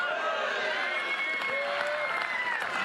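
A softball crowd at a Texas Longhorns versus Florida Gators college game cheers and claps in a broad, sustained roar, with an announcer talking over the noise.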